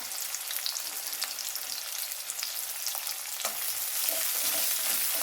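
Sliced large onions and two green chillies fry in hot oil with a bright, continuous sizzle. Occasional stirring scrapes cut through it, and the crackle swells slightly toward the end. No voices.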